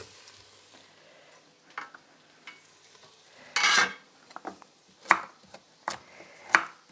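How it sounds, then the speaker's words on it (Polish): Chopped carrot goes into onion frying in a soup pot, heard as a quiet sizzle under intermittent scraping and clinking of a utensil stirring against the pot in short bursts. "Do tej cebuli już możemy dodawać naszą pokrojoną marchewkę, więc to sobie już dodajemy"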